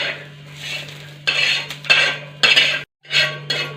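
A metal spoon scoops fried red onion out of a pan for a tribal-style misal, giving several scraping, clinking bursts separated by pauses over a steady low hum.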